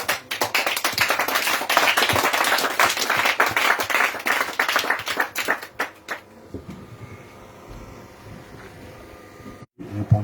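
A church congregation claps rhythmically and loudly in praise of the king of kings, a dense sustained patter for several seconds that then breaks off into quieter room sounds and scattered noise.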